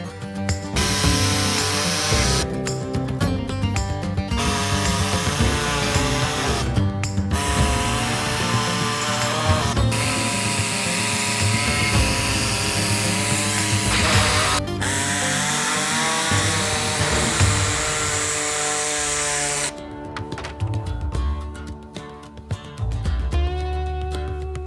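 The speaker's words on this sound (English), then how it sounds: "gonna cut out these little vertical pieces all the way along the bottom of the grill" A power tool whines steadily while cutting the plastic vertical pieces of a 2021-2022 Chevy Colorado grille, loud and close, running almost continuously with brief pauses and changes in pitch as the blade bites.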